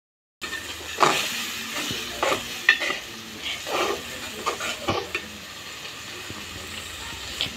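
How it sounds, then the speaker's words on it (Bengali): Spice paste (masala) sizzles in a hot pan while a spoon stirs and scrapes it, giving irregular bursts of frying hiss close by. "আমি এভাবে মশলাটা ভালো করে কষিয়ে নেব।"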